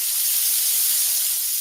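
A sizzling sound effect, like meat searing on a hot surface, comes through as a steady, bright, hissing wash. It stays at an even level from start to finish with no talking.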